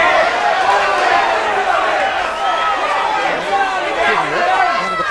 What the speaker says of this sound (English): Crowd, as you can hear in the background, wanting something to happen in this round